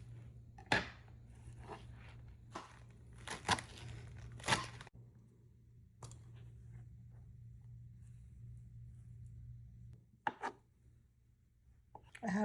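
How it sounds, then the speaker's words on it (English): Turnip greens are chopped finely with a knife on a board, with bursts of quick close cuts at the start, a long quiet stretch, then a few more chops, all over a low steady hum. "Just chopping it up finely."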